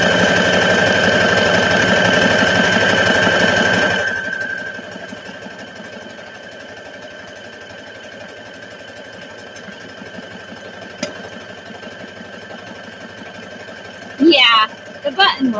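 A sewing machine hums and stitches steadily for about four seconds, then stops, leaving quiet room tone with a few faint clicks and a short voice near the end.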